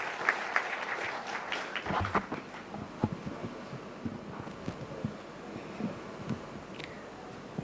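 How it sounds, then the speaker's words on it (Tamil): Audience applause at a garment company's educational scholarship award ceremony, a moderately loud patter of clapping that thins into scattered, uneven claps over several seconds, with no talking. "ஒரு பலத்த கைத்தட்டல்களுடன்."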